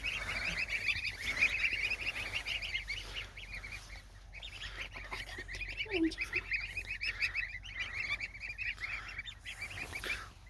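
Goslings honk and peep in a continuous chorus of high, rapid calls, close and steady, with one lower honk partway through and no speech.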